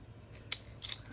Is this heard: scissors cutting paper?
yes